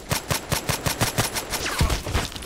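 An SVU-AS automatic sniper rifle in Contract Wars fires a fast, evenly spaced string of loud, close shots, about a dozen in quick succession, with a heavier thump partway through.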